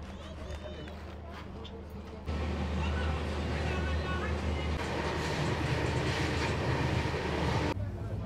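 A Jan Shatabdi express train runs from New Delhi toward Haridwar, its rumble heard from inside the carriage, quieter at first and then swelling into a loud, steady roar with rhythmic rattling; talk is present.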